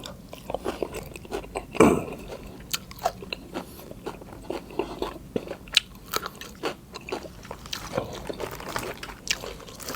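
Someone eats raw vegetables with bamboo shoot soup, with close crisp bites and crunching, wet chewing and a few small liquid sounds in an irregular rhythm.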